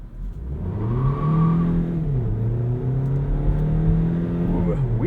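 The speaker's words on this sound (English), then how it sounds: "Now let's find some acceleration here." A 2018 Hyundai Ioniq plug-in hybrid prototype accelerates hard with wheel spin, its engine note climbing, dipping at a gear change, then rising again, loud and close from inside the cabin with no talk.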